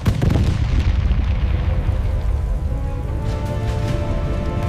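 Explosions and artillery fire at a military border crossing in the desert, a loud continuous rumbling barrage of deep booms with no voices.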